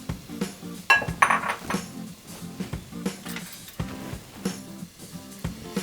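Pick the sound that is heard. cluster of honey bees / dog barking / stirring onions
stirring onions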